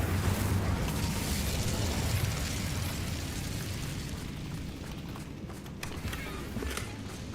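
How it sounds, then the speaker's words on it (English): A fire spell is cast in Hogwarts Legacy, giving a loud, dense crackling rush of flame that starts at full strength and fades slightly over several seconds, with no talk. "Incendio!"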